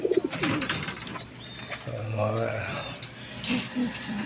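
Pigeons gathered at a feeding spot give soft, repeated cooing and calls, with chirps and wing flutters mixed in, fairly near, over steady low background noise.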